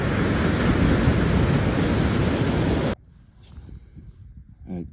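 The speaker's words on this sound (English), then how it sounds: "we're getting like actual waves out here today" Active ocean surf breaking on a beach: a loud, steady wash of roaring waves and wind buffeting for about three seconds, then a sudden drop to quiet background with a faint voice near the end.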